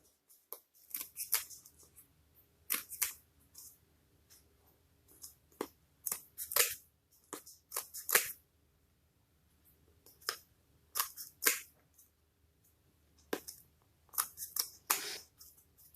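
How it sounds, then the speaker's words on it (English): Scissors snip fabric while a cross stitch ornament is trimmed for finishing, giving sharp, close cuts in irregular bursts with quiet pauses between, alone in a quiet room. "don't be scared to cut, you know, to really get in here and cut what you need off"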